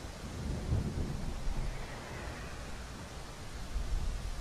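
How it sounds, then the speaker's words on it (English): Rain and rolling thunder in the air traffic control game Tower! 3D Pro, a faint, steady hiss of rainfall with low, soft rumbles swelling beneath it. "Just rain."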